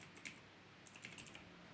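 Quiet, close clicking of fingers typing on a computer keyboard, a loose run of light key taps and a couple of firmer strikes, with no talking.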